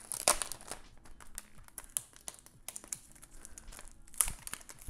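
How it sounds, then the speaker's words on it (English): Close, crisp crinkling and rustling as a Dell XPS 13 (2021) laptop is unwrapped from its packaging, with scattered sharp plastic snaps and tears and no talk. "let's go ahead and get it unboxed, or unraveled, I should say, or unwrapped"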